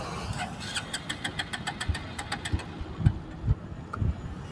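A car engine cranking without starting, at night on the Mumbai–Nashik highway: rhythmic starter turning with uneven low thumps and chugging pulses, moderately close and continuous for several seconds, with no voices.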